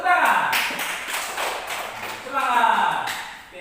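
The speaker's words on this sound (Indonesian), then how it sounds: "Tepuk tangan." Schoolchildren in a classroom clapping their hands, a dense patter of claps that eases off and then swells again, with voices talking over it.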